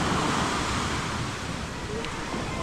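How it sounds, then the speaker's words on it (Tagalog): Sea waves near the shore make a continuous broadband wash with rumbling wind noise on the microphone. The sound stays steady and close throughout, with no talk. "Lapit na yung dagat dito."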